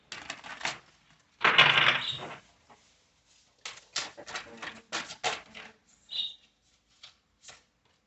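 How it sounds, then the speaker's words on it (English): A deck of tarot cards is shuffled close up in soft, quiet bursts of riffling and flicking, separated by brief silences, with no voice. "And one more shuffle."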